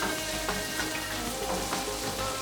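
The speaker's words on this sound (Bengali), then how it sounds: "এটা ফ্রাই হতে বেশি সময় লাগবে না" Bell peppers and ginger fry in a pan with salt, giving a steady, even sizzle that holds at the same level throughout and has no talk over it.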